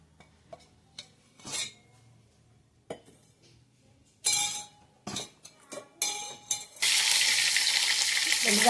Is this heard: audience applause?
no